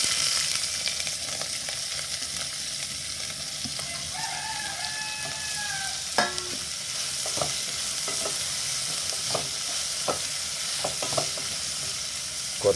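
Two chopped onions frying in a pan for a chickpea curry, with a continuous sizzle and scattered scraping stirs, and a rooster crowing faintly in the background.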